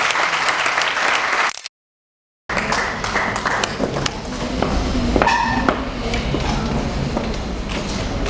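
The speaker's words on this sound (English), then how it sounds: "Please clap for him." A large audience at a pan-African peace and conflict resolution award ceremony applauds steadily in a dense, loud wash of clapping, broken by a brief dropout of complete silence before the clapping resumes and carries on.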